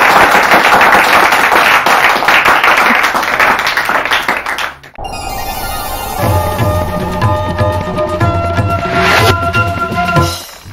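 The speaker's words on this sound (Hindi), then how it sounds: "इनके लिए ताली बजाइए" A studio audience claps steadily for the winning contestant on an Urdu-language quiz show, a dense burst lasting about five seconds before it cuts off and music with a steady beat takes over.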